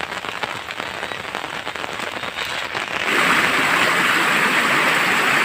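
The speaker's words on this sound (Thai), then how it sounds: "ตอนนี้ฝนยังตกไม่หยุดเลยครับ" Steady rain pours down, a dense hiss of drops on surfaces that grows louder and heavier partway through.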